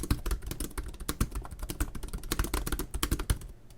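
Fingers typing rapidly on the keyboard of an early 2017 HP Spectre x360 laptop, a close, dense run of light clicky keystrokes in an uneven rhythm, slowing slightly toward the end with no speech.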